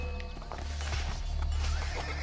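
Horse neighing in the Assassin's Creed Brotherhood action game, a loud whinny over clip-clopping hooves and low background rumble, close and brief.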